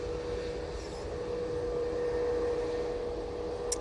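An Easyjet airliner departs Manchester Airport for Gibraltar, a steady distant engine rumble with a faint tonal whine holding evenly throughout.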